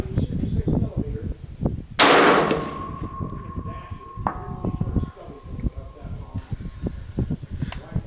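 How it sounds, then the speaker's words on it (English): A 6mm Dasher rifle fires one sharp, loud shot on a range, with a ringing tail trailing after it, while people talk nearby before and after. "You're shooting 6mm."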